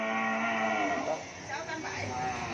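Cattle low loudly and continuously at a cattle farm in Vietnam, one long deep moo overlapping others close by, with no talk over it.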